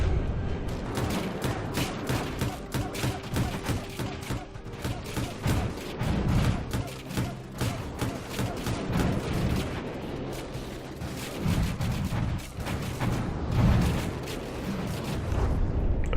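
Dense, continuous barrage of gunfire and explosions from a From the Depths tank battle involving a T-80, with rapid cannon shots and booming blasts layered loudly throughout.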